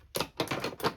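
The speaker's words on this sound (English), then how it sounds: "I'm using a sharp pair of scissors" Sharp fabric scissors snip through cloth in three quick, crisp cuts, close and clear with no talk.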